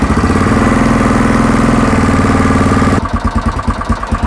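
A Yamaha XTZ660 motorcycle engine idles steadily and loudly up close, its even low rumble pulsing throughout, briefly quieting to a lighter beat near the end as it is left running to warm up before an oil change.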